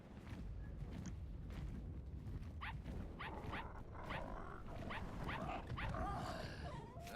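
A dog in a video game yips and whimpers in short, high bursts over a constant low background hum, fairly faint and repeated through the clip.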